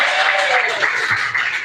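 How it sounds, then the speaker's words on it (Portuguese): A church congregation at a Wednesday worship service claps in a brief burst of applause, dense and fairly close, with a voice briefly audible alongside. "Receba o nome de Deus com as palmas que exaltam o nome do Senhor Jesus."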